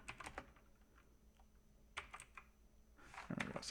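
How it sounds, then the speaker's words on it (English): Computer keyboard typing in quick clattering bursts of keystrokes, close and fairly quiet, with a pause in the middle before a denser flurry at the end. "just typing it in"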